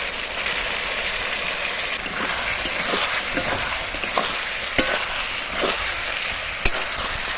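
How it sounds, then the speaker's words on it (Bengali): Eggplant and poultry skin sautéing in oil in a pan, a continuous close sizzle with occasional sharp clicks of a utensil stirring against the pan. "বেগুনটা দিয়ে দেখুন আরও খানিক সময় কষিয়ে নিয়েছি।"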